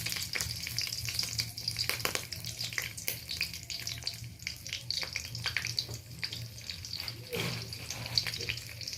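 Panch phoron spices and green chillies fry in oil, giving a busy crackle of spattering pops mixed with soft clatter and a faint watery hiss. The sound stays fairly close and continuous, with no talking.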